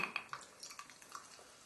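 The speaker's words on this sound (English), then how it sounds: "what I always do with my gin, and charge it on up with a wee bit of tonic" Schweppes tonic water trickles into a glass of gin, a quiet run of small splashes and drips spread evenly over a moment, close up with no talk.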